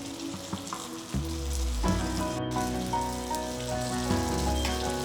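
Kaara paniyaram batter sizzles steadily in the oiled cavities of a hot paniyaram pan, with a loud, continuous frying hiss that intensifies as more batter goes in.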